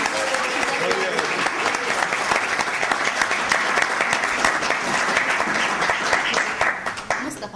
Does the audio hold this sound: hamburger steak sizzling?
no